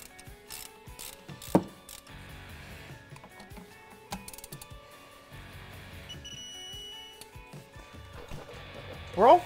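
A ratchet clicks in quick, close bursts while tightening brake caliper bolts on a C8 Corvette, separated by pauses and handling noises, with a louder clank near the end.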